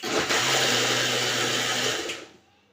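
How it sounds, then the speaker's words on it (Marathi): A kitchen mixer grinder blends mango pulp for aamras, a loud steady whirring motor run of nearly two seconds that stops abruptly and fades out, with no talking. "मिक्सर चालू ठेवायचा नाही"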